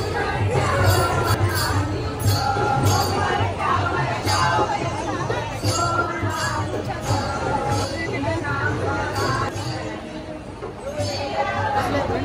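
Devotees crowd the queue at Durgadi Durga Mata temple in Kalyan during Navratri, a steady murmur of many voices and close chatter with occasional clinks filling the space throughout.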